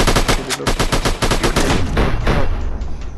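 Rapid automatic gunfire in the Project IGI mobile shooter game, loud and close, bursts of dense repeated shots that roll into a continuous rattle with a low rumble underneath.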